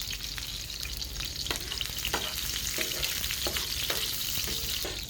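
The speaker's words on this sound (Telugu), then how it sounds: "ఉల్లిపాయలు కొంచెం వేగనిద్దాం." Onions frying in a few spoons of oil, a continuous close sizzle with repeated scraping stirs of a spoon in the pan, no voices.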